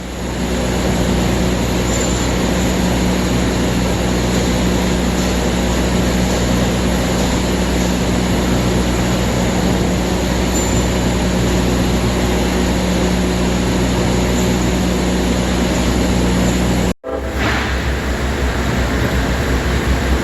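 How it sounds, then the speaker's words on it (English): A loud, steady rumble of a passing train holds for about seventeen seconds, then cuts off briefly before resuming. "There's your train for the day."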